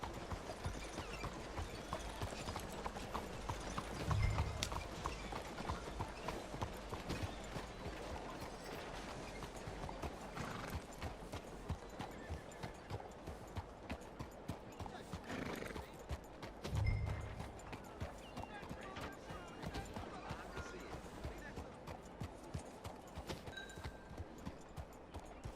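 Horse hooves clip-clopping at a steady riding pace in Red Dead Redemption 2, a continuous rhythmic patter of fairly quiet hoofbeats with a couple of louder thumps and no talk.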